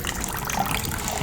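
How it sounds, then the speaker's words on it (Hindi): Warm water poured into a glass of sea buckthorn juice at home, a steady splashing gush heard close up for a brief moment, no talk over it. "मैं डाला था थोड़ा से पानी"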